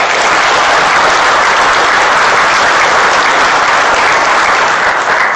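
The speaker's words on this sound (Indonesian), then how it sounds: "Jadi mungkin untuk prestasi itu kita perlu berikan tepuk tangan pada Pak Hatip." Sustained, dense applause from an audience at a handover ceremony for Indonesia's finance minister, loud and steady throughout with no voices over it.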